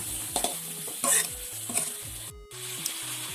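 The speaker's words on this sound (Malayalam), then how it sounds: "ഇത് നമുക്ക് നന്നായിട്ടൊന്ന് മീഡിയം ഫ്ലെയിമിൽ വെച്ച് വഴറ്റിയെടുക്കാം" Shredded cabbage with mustard seeds sautéing over medium flame in oil, stirred with repeated scraping strokes against the pan over a steady sizzle, close and moderately loud, no talking.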